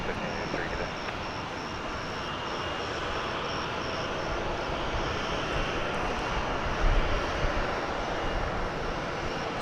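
American Airlines jet airliner in Air Cal Heritage livery at DFW Airport, a steady broadband engine roar held at even loudness throughout, with a thin high whine above it and a faint voice mixed in.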